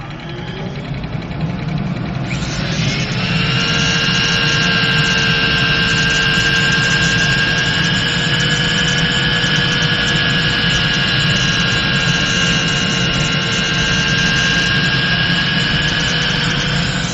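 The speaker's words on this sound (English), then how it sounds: "let me turn on my dust collection here." A workshop dust collection system starts up and runs, a loud, steady roaring whoosh with a constant high whine that holds evenly throughout, close by.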